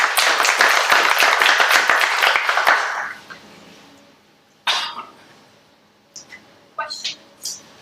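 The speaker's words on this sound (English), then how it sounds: "Round of applause." An audience gives a dense round of applause after a technical presentation on flexible versus rigid pipes. The clapping lasts about three seconds, then stops abruptly, leaving a quiet room with a few scattered coughs and small noises.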